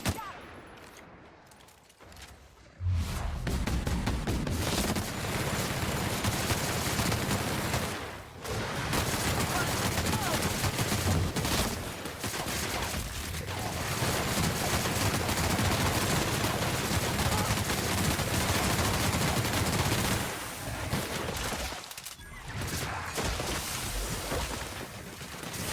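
Sustained bursts of rifle gunfire from The Outer Worlds fill most of the span, dense and loud, broken by a few brief pauses.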